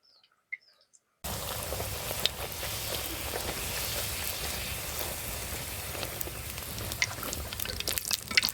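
Luchi flatbread fries in hot oil, a dense steady bubbling crackle that starts abruptly after near silence and continues loud and close throughout, with scattered sharper pops.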